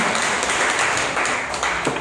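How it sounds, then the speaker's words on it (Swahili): An audience at a meeting applauds brother Gashara: a dense, even wash of many hands clapping at once, sustained for a couple of seconds. "Naomba tumpigie brother Gashara makofi."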